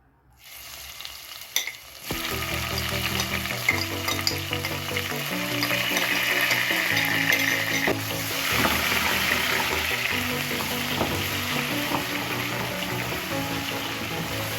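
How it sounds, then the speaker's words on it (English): Onions and garlic dropped into hot oil for a Ghanaian beef stew burst into a loud, crackling sizzle after a quiet start and a clunk. The frying stays dense and steady, with faint stirring scrapes and no talking. "So in this oil I'm going to add onions and garlic."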